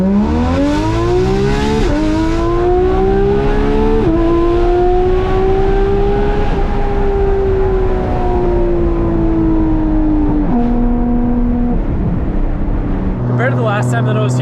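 Porsche GT3 RS engine bellowing through a Dundon exhaust on a drive through the Smokies, a loud sustained roar that climbs and shifts pitch with gear changes and settles near the end.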